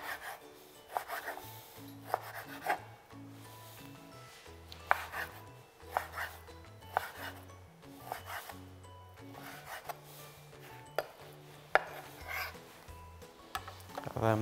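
A knife chops beef into small pieces on a cutting board, giving irregular sharp knocks every second or so over a soft, low background, with no talking.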